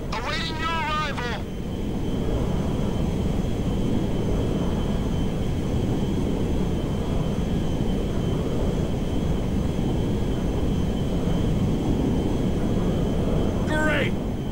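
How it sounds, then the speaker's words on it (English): A fighter jet in GTA V Online roars steadily at high volume for the whole stretch, a dense broadband rush with brief radio-style chatter bursts near the start and end. "Great. Fighter jet."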